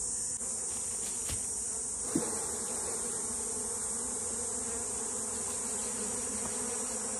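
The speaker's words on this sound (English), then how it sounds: "So here we go with shaking the bees." Honeybees being shaken off hive frames during a transfer from a Langstroth to a top bar hive: a dense, steady swarm buzz fills the air close by, with a couple of faint knocks and no talking.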